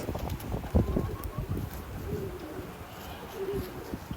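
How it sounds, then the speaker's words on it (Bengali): Pigeons of many breeds coo softly nearby in low, repeated murmurs, with faint shuffling and flutter around them, on a farm in Columbia, South Carolina. "অনেকগুলো কবুতর অনেক প্রজাতির কবুতর"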